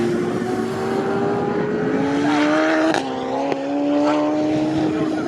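Race cars scream past at speed at the Snetterton circuit, their engines droning with rising and falling pitch through gear changes, loud and continuous.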